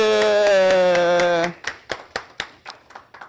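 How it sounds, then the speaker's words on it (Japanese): A few people clap briefly in a small room after a memory exercise, about seven distinct, fairly close hand claps following a sustained tone. "拍手"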